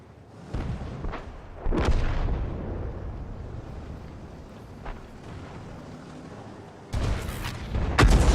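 Tank cannons fire in a tank battle video game featuring a GW Panther, with several heavy, booming shots, some distant and rumbling and others sharp and close, including a loud pair of blasts near the end.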